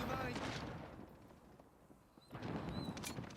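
SKS rifle shots in Call of Duty: Modern Warfare (2019) crack in several bursts, loud at the start and again near the end with a quieter lull between, over a noisy battlefield backdrop.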